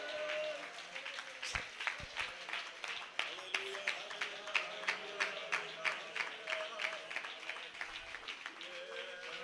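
A church congregation at a Pentecostal gathering claps hands together in a steady, rhythmic beat, the sharp claps sounding moderately loud and filling the room throughout.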